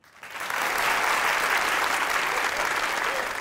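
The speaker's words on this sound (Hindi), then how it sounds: "तालियां बजाएं।" A studio audience at a Pakistani comedy show bursts into applause, rising quickly in the first half-second and then holding as a loud, dense wash of many hands clapping until the end.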